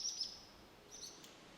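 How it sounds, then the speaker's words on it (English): Birds chirp outdoors in short, high tweets, a couple of brief calls near the start and another later, fairly faint over a quiet background with no talk. "Just the birds here now."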